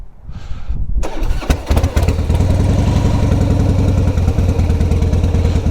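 A motorcycle engine cranks after a short quiet pause, catches and fires up, then settles into a loud, steady, close idle with a low throbbing pulse.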